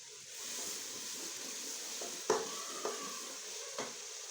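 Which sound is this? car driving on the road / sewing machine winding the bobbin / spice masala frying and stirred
spice masala frying and stirred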